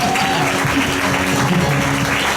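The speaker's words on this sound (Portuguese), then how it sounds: "Vamos aplaudir o Senhor" Dense, loud applause from a large crowd at a church family service, a continuous wash of clapping with a faint murmur of voices beneath.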